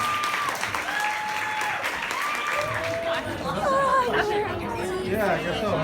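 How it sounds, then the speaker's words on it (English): A conference audience at a women's leadership event breaks into applause mixed with chatter and high, whooping cheers that rise toward the end, fairly close and lively. "Can we have a round of applause for the brilliance?"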